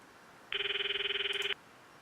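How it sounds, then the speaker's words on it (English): A phone ringing once during a call to Mayuri in the game Steins;Gate 2, a single clean electronic trill lasting about a second, clear against near silence. "I stop the video and call Mayuri's phone from my address book."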